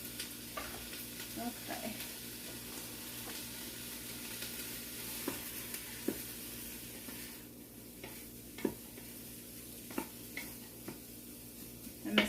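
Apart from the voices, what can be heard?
ground beef frying in an Instant Pot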